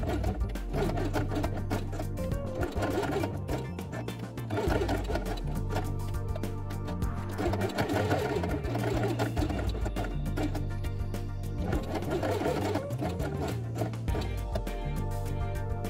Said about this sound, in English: sew along the edge with black thread